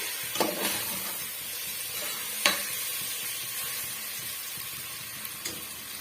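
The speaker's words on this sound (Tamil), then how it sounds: "சேர்த்துட்டு நல்லா வந்து வதக்கி விட்டுக்கலாம் ஒரு ரெண்டு நிமிஷத்துக்கு வதங்கினாவே போதும்" Onion masala for white chickpea biryani sautés in a pan with a soft continuous sizzle, while a spoon scrapes and knocks against the metal in a few sharp taps, close and without talk.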